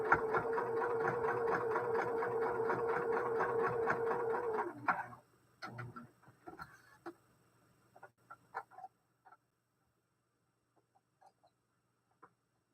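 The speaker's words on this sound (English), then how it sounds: "then you're going to sew it" Sewing machine stitching a quilt block, a steady close mechanical hum and whir running for about five seconds before stopping, followed by a few faint handling clicks and light fabric rustles.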